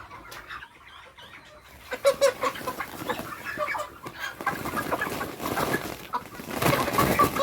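Several broiler chickens cluck and chatter close by, a busy stream of short calls that grows denser and louder toward the end.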